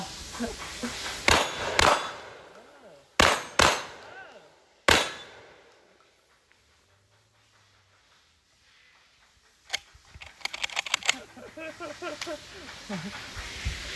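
Several loud, sharp shotgun blasts from a Pradus AS with a 28-inch barrel, fired outdoors in spaced bursts with clanking action noise between shots; people talk near the end.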